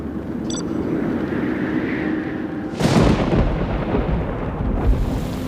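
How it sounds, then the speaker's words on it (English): Heavy rain pours in a steady roar during a night thunderstorm, then a loud crack of thunder bursts in and rolls into a long rumble beneath the downpour. "The rain is literally like just golf balls coming down."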